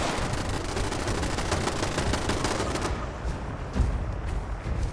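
Rapid automatic gunfire from sentry guns in Fallout 76, a dense, steady stream of shots through the first three seconds, then fading to scattered bursts and one louder thump near the end.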